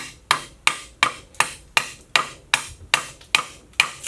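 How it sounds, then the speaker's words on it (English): A knife is hammered into osage orange wood to split a bow stave outdoors. Ten sharp, loud, evenly spaced strikes land about every 0.4 seconds, each with a short ringing decay, and no one speaks. "And now I can hammer it in, and then I pull the knife away, and then pull it out."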